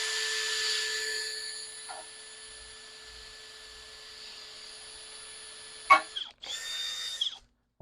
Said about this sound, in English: These screws aren't self-tapping. They need to be pre-drilled. So what you want to do is just take your drill bit